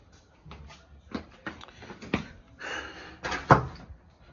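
A door is closed by hand, with a few soft knocks and shuffles building to a firm thud of it shutting, close and fairly quiet, no talk.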